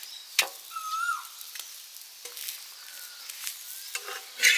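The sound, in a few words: sautéing greens in a pan for ragi roti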